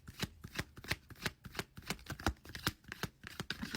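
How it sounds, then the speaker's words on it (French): Playing cards are shuffled by hand in rapid, rhythmic bursts of riffling and tapping, a steady series of crisp close strikes, quiet and alone. "Pour battre les cartes."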